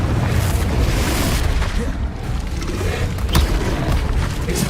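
A booming blast from the Confringo explosion spell in Hogwarts Legacy, heavy and rumbling, with a few sharper cracks on top of loud, continuous game noise.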